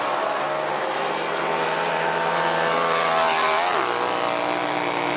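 A Harley-Davidson motorcycle engine drones steadily and loudly during an X Games snow hill climb race, its pitch holding high before dropping sharply near the end.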